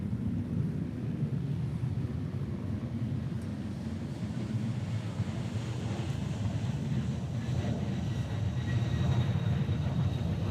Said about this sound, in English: This wind is fierce today.